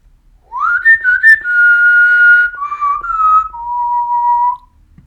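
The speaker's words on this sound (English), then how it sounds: "I'm going to whistle a little tune." A person whistles a short melodic tune, clear and close, with rising then steady sustained notes that end in a long held tone.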